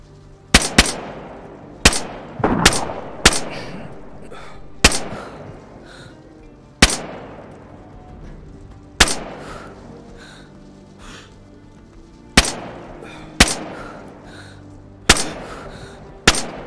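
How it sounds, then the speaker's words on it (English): Sniper rifle shots in the survival game DayZ, about a dozen loud, sharp reports spaced irregularly a second or two apart, each with a decaying echo tail, and no talking. "I'd say we shoot him, but give me a second, let me aim."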